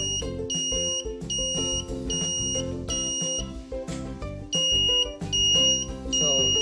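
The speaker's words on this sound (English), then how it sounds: "the sound or alarm will be continuously going on because the continuous pulse is going" An Arduino-driven PIR motion security alarm beeps in repeated high-pitched pulses, loud and continuous, layered over a steady tonal background with no voices.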